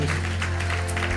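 A church congregation claps hands during a prayer service, giving a quick run of rhythmic claps over a low sustained musical drone. Brief and moderately loud.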